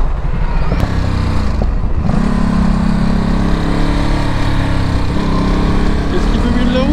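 Motorcycle engine while riding on a road, a loud, steady drone with a sustained hum throughout, and a voice talking briefly near the start.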